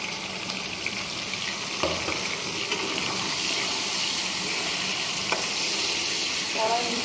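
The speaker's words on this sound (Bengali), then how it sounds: "এবারে দিয়ে দেবো কেটে রাখা পেঁয়াজ।" Chopped onions frying in a kadai give a steady, close sizzle with occasional stirring scrapes, with no talking.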